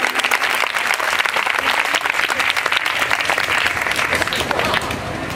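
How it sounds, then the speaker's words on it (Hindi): Loud, dense applause from an audience at a Hindu religious gathering for a 100-kund Shiv Shakti mahayagya and Ram Katha, with steady clapping that holds for about five seconds and eases slightly at the end. "जोरदार ताली।"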